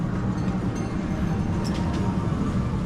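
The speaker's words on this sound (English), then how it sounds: "Jim Knopf, the little train ride." The Jim Knopf little train ride at Europa Park rumbles steadily, a dense continuous rolling clatter of a small ride train close by, with no voices.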